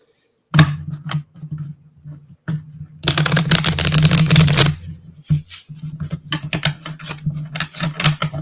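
A deck of playing cards is shuffled by hand in a quiet room: scattered riffles and taps, then a long, loud flurry of cards in the middle, followed by more short crisp riffles and bridging flicks.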